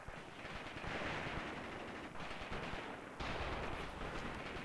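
Dense, sustained gunfire from a Graviteam WW2 game battle set on the 1943 Eastern Front, rifles and machine guns crackling continuously at high intensity with brief dips, no voices.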